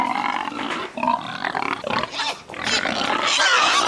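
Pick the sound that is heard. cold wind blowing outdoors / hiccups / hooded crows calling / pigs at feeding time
pigs at feeding time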